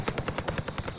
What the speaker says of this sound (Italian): Ah, l'elicottero.